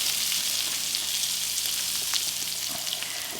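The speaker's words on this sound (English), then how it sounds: "I'm going to put my patty down, and we're going to start putting those in there to fry." Turkey patty frying in a pan of butter and oil, giving a steady, close, dense sizzle with fine crackling throughout and no talking.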